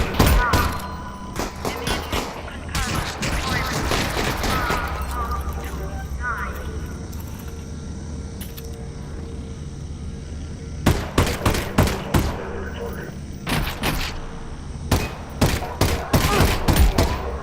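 Gunfire in the VR game Half-Life: Alyx comes as bursts of sharp, loud shots, several quick volleys early and a rapid cluster toward the end, with a player talking over the game sounds in between.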